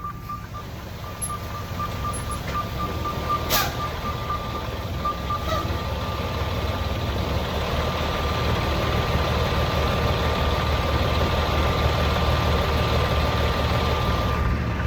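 A semi truck's diesel engine idles with a low, steady rumble after the parking brake is released, while a reversing beep repeats faintly in the background over the whole stretch.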